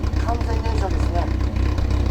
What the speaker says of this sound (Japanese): チューニングエンジンとは思えないほどのこのエンジンの滑らかさ